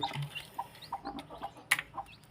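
Hen clucking near newly hatched chicks for sale, with a low cluck early on and scattered short peeping chirps repeating through the moment, close and fairly quiet, no talking.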